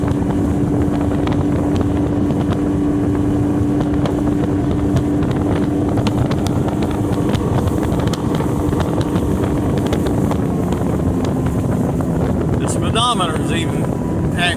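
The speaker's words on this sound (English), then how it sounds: "Here is the motor running under throttle." A 60hp Mercury four-stroke outboard on a 2018 Tracker TX 175 boat runs under throttle with a steady loud drone, mixed with wind buffeting and water noise, near and continuous for about fifteen seconds.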